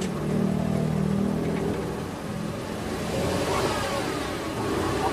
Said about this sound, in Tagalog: pa-start ko na itong makina. Tapos palagay ko sa drive yan kung may ugong pa.